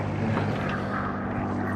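A propeller airplane in a VR climbing game passes overhead in the Alps, a steady broadband engine drone at moderate distance that holds across the moment without talk.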